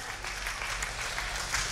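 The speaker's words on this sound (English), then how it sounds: "The best clap of praise to the Lord." Church congregation clapping in praise during a service in Hawaii, a brief burst of dense, steady applause from many hands, moderately loud and filling the room.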